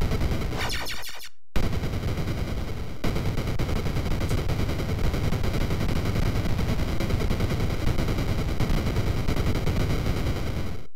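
Continuous loud gunfire and explosions rattle in the NES game Shatterhand, a dense chiptune barrage broken only by a brief silent cut early on.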